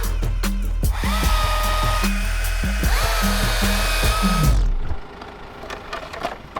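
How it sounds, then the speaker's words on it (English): A loud, close chainsaw roars steadily while cutting a fallen tree on a rain-soaked high country track, its pitch rising and dipping under load, then cuts off abruptly, leaving quieter outdoor sounds behind. "So Simon had to get the chainsaw out, move that one to the side so the rest of the convoy could go through."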